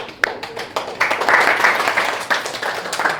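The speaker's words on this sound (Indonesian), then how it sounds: "tepuk tangan untuk dua teman kalian tadi." Classroom applause for two students after their presentation, a short burst of hand clapping that starts with a few sharp claps and swells into steady moderate clapping from a small group.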